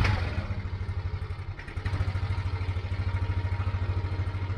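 Yamaha Nmax scooter engine with a 62 mm chrome bore-up and forged piston, running steadily at idle with a low, even rhythmic pulse, close and alone, with a brief dip before settling back.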